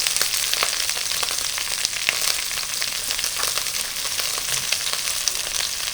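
Raw mango pieces fry with turmeric in a pan, giving a dense, continuous sizzle with crackling pops scattered throughout, close and fairly loud with no voices.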